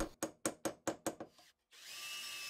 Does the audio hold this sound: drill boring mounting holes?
yes